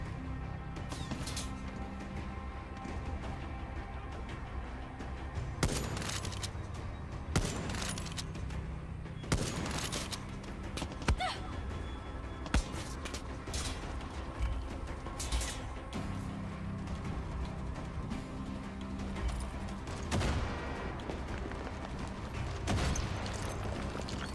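Enemies fire at the player in Far Cry 6, with scattered rifle shots and short bursts cracking over a constant background rumble of battle. Gunfire is steady, sometimes close and sharp, sometimes more distant.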